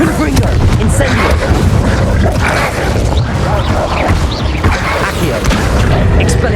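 Confringo and Incendio fire spells go off in Hogwarts Legacy combat, loud booming blasts and crackling flame layered over busy battle noise, with voices shouting over the din.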